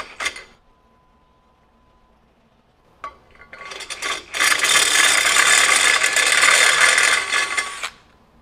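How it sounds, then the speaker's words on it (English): A DeWalt DCD794 Atomic 20V brushless cordless drill cuts with a step bit at partial throttle: a short opening whine, a quiet pause, then a loud, sustained rasping grind for several seconds before it cuts off. "So no problem at all driving a step bit."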